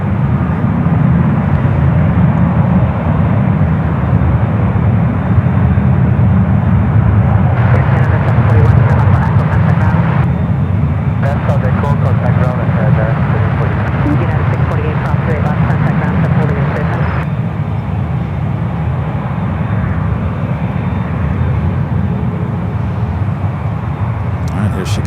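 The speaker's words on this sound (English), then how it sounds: "Here she comes, 787-10 Dreamliner with Korean, wearing the updated livery." A Korean Air Boeing 787-10 Dreamliner in updated livery taxis across a runway, its engines giving a steady, moderately loud drone for the whole stretch while people chat over it.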